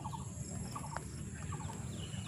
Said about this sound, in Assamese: চৰাইবিলাকে কিমান ধুনীয়াকৈ মাতি আছে।